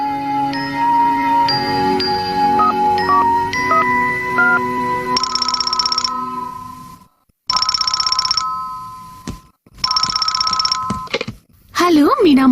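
A telephone rings in a cartoon home, a bright electronic melodic trill repeating in several bursts separated by short pauses, loud and close with nothing talking over it.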